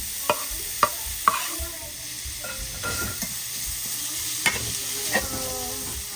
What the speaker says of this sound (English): we are going to chop up some bacon to fry